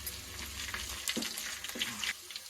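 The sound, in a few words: onions sautéing with curry leaves and chillies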